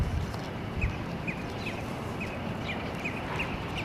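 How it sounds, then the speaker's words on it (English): Birds call at the Arizona Science Center in Phoenix, repeated short chirps spaced roughly evenly over a steady, noisy indoor background hum. "Beautiful birds."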